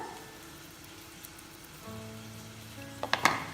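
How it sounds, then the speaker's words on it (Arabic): Merguez sausage, potatoes and garlic fry in a pan with a soft, low sizzle that picks up slightly partway through, followed by a few sharp crackles and pops near the end. "نخليوهم يتقلاو المرقاز والبطاطا والثوم"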